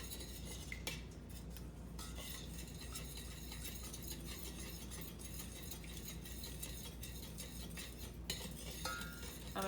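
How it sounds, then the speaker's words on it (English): A spoon stirs chili powder into oil in a pan on the stove, with faint, continuous scraping and clinking of the utensil against the pan under a steady background hiss. "So we're just going to stir this for 1 minute."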